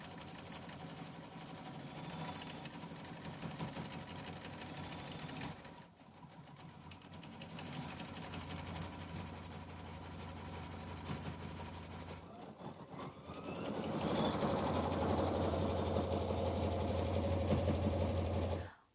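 An embroidery machine stitches cream thread lettering onto a quilt block, a rapid mechanical whir that runs continuously, pauses briefly twice, then returns louder near the end.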